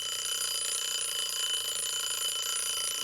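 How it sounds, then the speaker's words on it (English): A one-act timer rings steadily and loudly, a bright continuous electronic trill that carries on without pause for the whole stretch. "5 minutes, one act timer, when it rings, the story ends."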